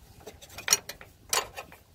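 Tightening a fuel filter fitting on a 2000 Chevy Silverado 1500 brings a few close, light metallic clicks and scrapes, with two sharper clinks standing out.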